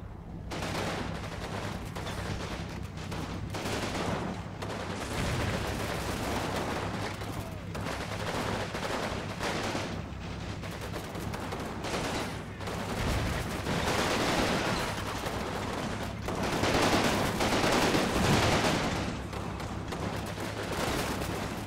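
Dense gunfire in a war video game fills the scene, dominated by rapid automatic bursts and heavier booms that blend into a continuous barrage, loud and steady throughout.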